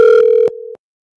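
Electronic telephone tones during a call sound loud and close: a long steady beep, a break, then a shorter lower tone that cuts off, with no voices.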